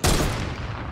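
A single loud sniper shot in a video game cracks sharply and then fades into a decaying roar, alone with no talk.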